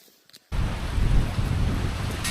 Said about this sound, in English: Nothing like having to take shelter from the storm.